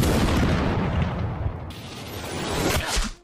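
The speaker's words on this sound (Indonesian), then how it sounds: "Saat tembakan dilepas," A sniper rifle shot in a film, a loud sustained blast and rushing boom that fills the whole moment before cutting off sharply at the end, with no talk.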